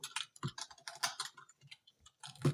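Someone types in quick, irregular bursts of clicky keystrokes on a computer keyboard, close up, while entering HTML form code. Short pauses separate the bursts.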